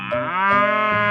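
A cartoon cow in a 3D animal slide video game gives one long, loud, drawn-out moo that carries over the whole moment, with no talking.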